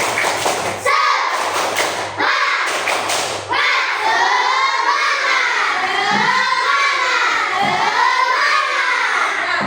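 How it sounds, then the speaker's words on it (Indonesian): Schoolchildren in a classroom perform a rhythmic spirit clap routine, with sharp group claps and thumps at the start, then loud chanting voices shouting together for several seconds. "Tepuk semangat."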